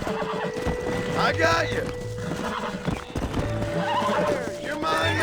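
Horse in Red Dead Redemption gameplay whinnying loudly and clopping its hooves up close, with a voice talking over the game music and effects.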